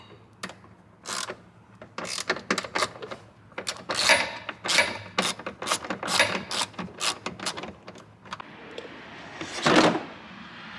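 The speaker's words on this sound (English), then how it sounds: "I'm gonna loosen the bolt on the reservoir real quick." A ratchet loosens a bolt on the reservoir of a 2022 Ram TRX during an oil catch can install: a close, steady run of sharp metallic clicks with uneven spacing and a louder burst near the end, with no talking.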